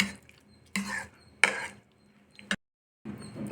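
Curd rice is mixed with salt and milk in a bowl, a spoon scraping and knocking in a few distinct strokes with short pauses between them, close and fairly clear.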